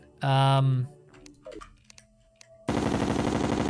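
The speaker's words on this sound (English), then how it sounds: "That's a loud-ass gun." The Vortex Beater gun in the video game Terraria fires a loud, dense, rapid burst of shots that runs steadily through the final second, after a short tonal game sound and a few quiet clicks.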